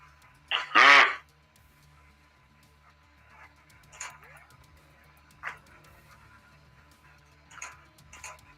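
Dogs in a video game bark in several short bursts, one loud and close near the start and fainter barks afterward, over a low steady game background hum.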